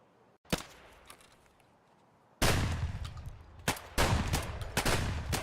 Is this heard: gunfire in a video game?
yes